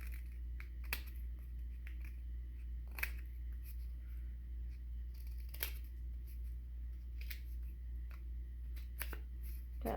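Scissors snip repeatedly at an uneven pace, crisp close-up cuts with short pauses between them over a low steady hum.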